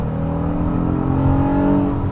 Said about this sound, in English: That's the sound of a mighty trusty V6.